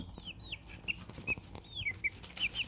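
Silkie hens make short, high calls and chirps in a farmyard, several scattered across a couple of seconds over a low background hum, fairly close.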